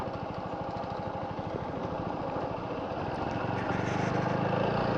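A motorcycle engine chugs and labors as the bike climbs a steep hill on Furomon hill, a close, steady low putter whose pitch rises and thickens toward the end as the throttle opens.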